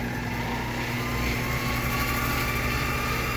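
Vevor mini lathe spinning at full speed, a steady close motor whine with a constant hum, unchanging throughout.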